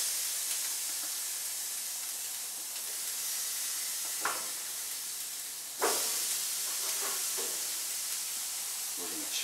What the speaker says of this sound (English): Now what we'll do is we're going to put our steaks on